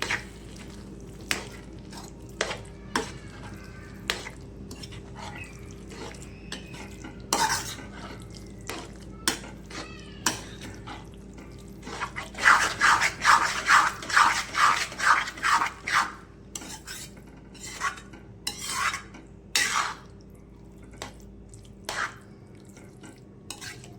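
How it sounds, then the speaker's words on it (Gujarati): Aubergine ola stirred into gravy in a pot gives repeated spoon scrapes and clinks against metal, with a quick run of rhythmic mixing strokes in the middle. "ઓળો નાખીને બધું મિક્સ કરી લઈશું."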